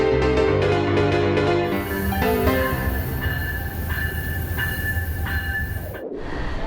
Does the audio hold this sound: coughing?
no